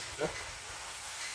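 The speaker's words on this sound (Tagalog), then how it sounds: "Ayan, kumukulo na siya." Rice porridge boils hard over a strong flame, making a steady, close bubbling hiss with one brief louder burble near the start.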